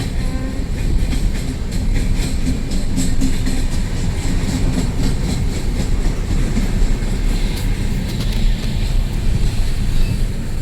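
An express train rushes past close by at night, seen from a car during a Kolkata to Siliguri drive near Farakka, a loud sustained roar with rapid rhythmic clickety-clack of wagons over the rails throughout.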